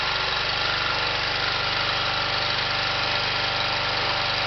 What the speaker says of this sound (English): That's how difficult it is to fire up the generator.